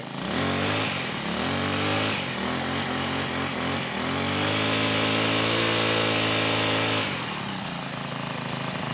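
A Honda GX35 four-stroke brush cutter engine runs close by with a loud, steady buzzing drone, its pitch dipping and rising slightly before easing off near the end.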